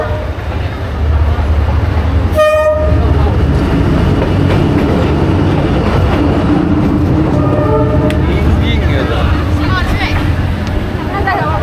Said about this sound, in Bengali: আরেকটা ট্রেন আসছে, ট্রেনটা চলে যাক।